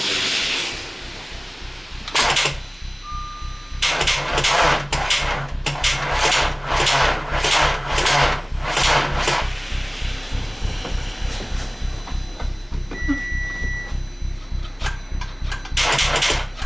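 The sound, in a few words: Audi A4 engine starting and running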